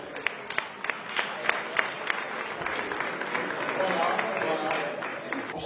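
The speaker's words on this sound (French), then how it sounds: "À la fin, elle a même droit à une standing ovation." A conference audience gives a speaker a standing ovation, a steady wash of dense clapping with a few sharper claps standing out near the front.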